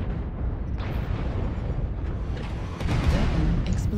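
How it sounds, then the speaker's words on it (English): Rumbling blast noise fills a MechWarrior Online battle, a sustained heavy roar that swells louder near the end, with no speech over it. "Explosion detected."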